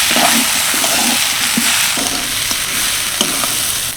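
Drumstick leaves fried with dried red chillies and lentil bori are stirred in a hot pan, a steady loud sizzle with scraping strokes of a spatula running throughout, close and without voices.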